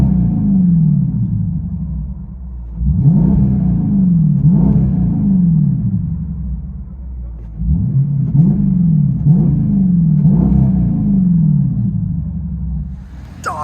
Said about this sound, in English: Dodge Durango with vibrant mids, X-Pipe, and 5-inch angle cut tips.